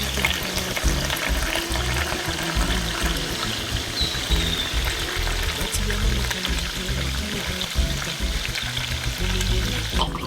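Wine pours from a barrel into a container in a village cellar, a loud, steady gush of splashing liquid heard up close for the whole stretch, with no talking.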